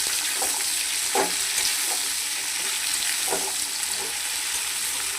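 Tomatoes and flat beans fry in a pan with a constant, close hiss of sizzling oil, broken by a few soft stirring scrapes.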